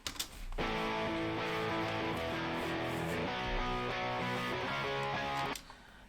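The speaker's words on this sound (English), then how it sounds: "So we added some just power chord guitars in" Layered electric rhythm guitars chugging power chords for a country rock production, a dense, steady sustained wall of distorted chords that holds for about five seconds before cutting off.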